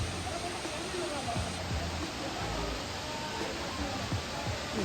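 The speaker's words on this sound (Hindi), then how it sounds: "झरना है" A waterfall at a hill station temple site in Pachmarhi gives off a steady, broad rushing roar that stays even throughout, with faint voices in the background.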